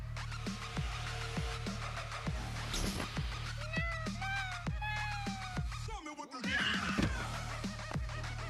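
A cat meows repeatedly in short, rising cries from an anti-smoking video played back, with some snickering laughter mixed in and a louder, wailing caterwaul near the end.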